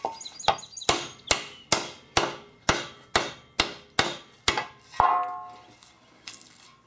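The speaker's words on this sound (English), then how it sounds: "I did pound a little bit in the center to try and stretch that out over one of the holes in the stump" A bat hammer pounds sheet metal laid over a tree stump: about eleven sharp, ringing metallic blows fall close up in an even rhythm roughly every half second, then the clip tails off into quiet clatter.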